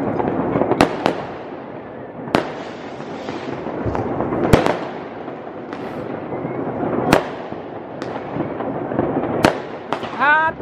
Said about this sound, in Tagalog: Maririnig mo dito yung mga paputok.